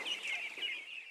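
Chickens on a farm that also keeps ducks, goats, cattle and pigeons give a short run of clear, nearby clucking, with no other sounds.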